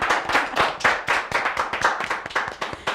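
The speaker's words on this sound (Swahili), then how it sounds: "Makofi ya David." An audience claps for David Kariuki, CEO of AMG Realtors, at a live show: a run of sharp, uneven handclaps close by, steady through the moment with no voices over them.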